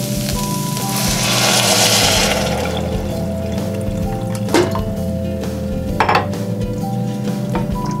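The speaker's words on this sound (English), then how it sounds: "Now it's time to add our water." Water poured into a cooking pot of softened vegetables for vegan mac and cheese, a brief rushing splash near the start with light clinks of pot and utensils and a steady low kitchen hum underneath.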